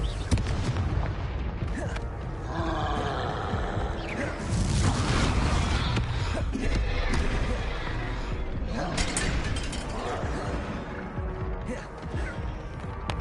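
Confringo fire spell explosions in a PS4 game: dense, loud booming blasts and crackling bursts that roll continuously over a thick wash of game noise, with a heavy swell near the middle.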